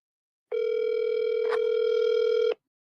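A single steady telephone tone on an outgoing call, about two seconds long, loud and close, with a brief click partway through and silence before and after.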